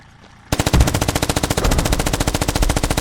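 Sustained machine gun fire in the video game Squad, a loud, close, rapid burst of evenly spaced shots starting abruptly after a short quiet lead-in.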